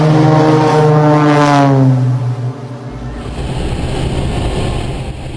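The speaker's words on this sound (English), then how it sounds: "The rejection occurred at high speed due to burst tires, leading to a runway overrun and the aircraft coming to a stop in soft ground." An Ilyushin IL-18D cargo plane overruns the runway after burst tires. Loud propeller engine drone sweeps down in pitch as the aircraft passes close, then gives way to a rougher, lower rumble.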